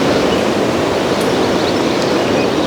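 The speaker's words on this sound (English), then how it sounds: "Can't remember what that waterfall's called though." Waterfall in a canyon in the Grand Tetons, near big boulders: a steady, loud, broadband rush of falling water with no pauses, filling the whole stretch like constant roaring surf.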